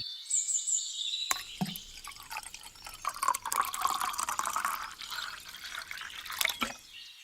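Water poured from a jar into a bowl of torn paper pieces for handmade paper: a sudden splash, then a steady close trickle whose pitch shifts as the bowl fills, stopping near the end.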